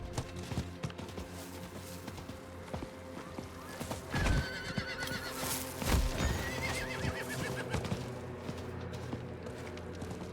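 A horse in the Diablo IV video game whinnies while its hooves clip-clop at a walk, with neighs rising loudly in the middle amid game ambience.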